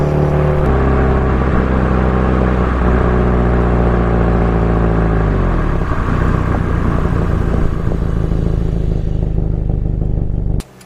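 A car on a test drive accelerates steadily up through the gears, its engine note loud and continuous with rising and falling pitch at each shift and no talk over it, until it cuts off abruptly at the end.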